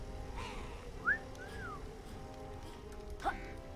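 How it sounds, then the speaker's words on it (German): Short whistled notes from the Yooka-Laylee video game rise and fall in pitch, with two brief, brighter chirps standing out over a quiet background hum. "Es wird weiter gepfiffen."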